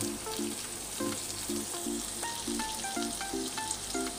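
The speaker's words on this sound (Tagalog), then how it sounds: "lagay natin ang sibuyas. Halo-haloin lang natin." Sliced onions hit a pan of hot oil for spicy chicken adobo and are stirred, giving a steady close sizzle with light scraping, while a plucked melodic tune plays throughout in the background.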